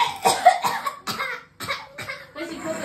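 A woman with a cold coughs in a quick run of harsh, chesty bursts, close and fairly loud, with short pauses between the fits and no other sounds.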